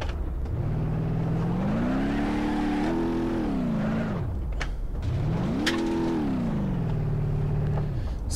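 A car engine in the BeamNG.drive game revs up and holds high twice, then drops back each time, a loud, close, smooth motor tone with pitch climbing and falling.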